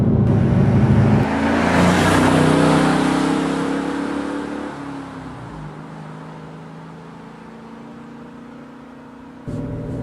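A 2010 Dodge Challenger R/T cruising in sixth gear at about 70 mph and low revs gives a steady, smooth engine drone with road noise. It swells briefly early on, then settles into a quieter, even hum.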